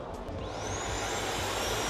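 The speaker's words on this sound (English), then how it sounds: "It sucks all of the gubbins out of there and into there, just like it will do with the robot." A Switchbot combo base station vacuum whirs loudly and steadily as it suctions dust, its motor whine rising to a high tone and holding.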